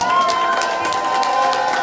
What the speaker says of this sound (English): Shall we all give a bit of applause?